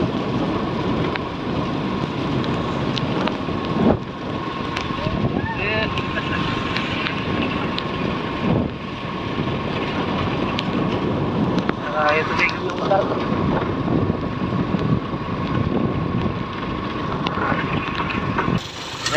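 Rain falling outdoors, a steady dense wash of noise with buffeting wind, and people talking at times over it.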